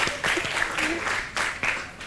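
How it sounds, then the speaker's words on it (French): Applause from a high school audience at a school event in Senegal, a continuous crackle of many hands clapping with a few sharper bursts, under scattered voices and cheers. "les applaudissements des gars"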